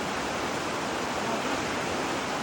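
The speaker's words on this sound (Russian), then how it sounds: "Река очень большая, течение мощное." A large mountain river with a powerful current roars in a steady, loud broadband rush, constant and close, with no voices over it.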